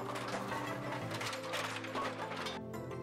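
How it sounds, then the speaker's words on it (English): Bowling pinsetter machinery runs steadily with whirring gears, clattering mechanisms and ratchet-like clicks, a dense continuous mechanical din with no talk. "Those pins are then recycled back through the elevator system and back up onto the distributor."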